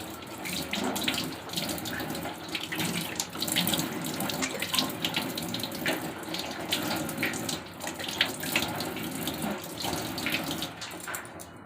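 Tap water runs steadily into a kitchen sink while filling for tea, a continuous close splashing hiss with no talk.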